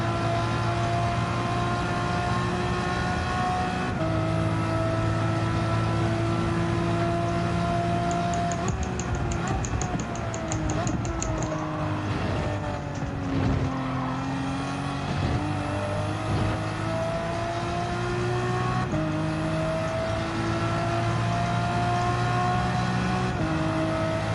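Toyota Supra race car in Gran Turismo drones steadily through a long lap, the engine pitch shifting as it accelerates and eases off, with no talk over it.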